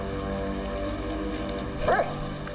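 Cadaver dogs searching brush on a farm give what sounds like a single short bark near the end, set against a steady droning background.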